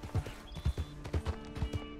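Horse hooves clip-clop in Red Dead Redemption 2, a quick even trot of close, thudding beats over a faint background hum, with a brief whinny-like tone.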